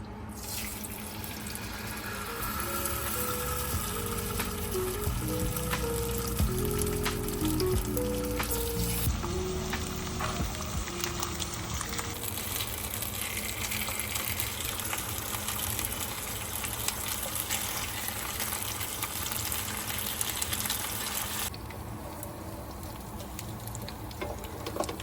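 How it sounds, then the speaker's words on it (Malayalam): Karimeen pearl spot fish fries in coconut oil in a pan on a low flame, giving a steady, close sizzle and crackle that runs unbroken with no talking. "അപ്പോൾ നമ്മൾ കരിമീൻ ലോ ഫ്ലെയിമിൽ വറുത്തെടുത്താണ്ട് കേട്ടോ."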